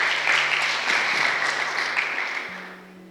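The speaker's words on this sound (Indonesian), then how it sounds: "Tepuk tangan dulu buat Tuhan Yesus." A youth service congregation claps together, a dense, lively round of applause that stays strong and then gradually tapers off.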